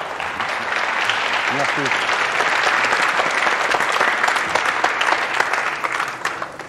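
Studio audience on a French television game show applauds steadily, a loud, dense sustained wash of clapping, with a brief spoken word over it.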